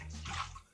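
Water splashes onto a tiled shower floor with a clogged drain, a short steady wash of pouring water heard up close, fading out after under a second.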